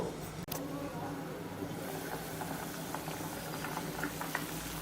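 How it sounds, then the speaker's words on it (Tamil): Water boils steadily in a pot, a dense bubbling hiss with faint popping, close and constant after a brief clatter at the start. "தண்ணி நல்லா கொதிச்சிருச்சு"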